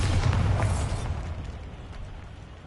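A Bombarda blasting spell explodes in Hogwarts Legacy, a loud booming burst with crackling debris at the start that decays into a fading rumble over a couple of seconds.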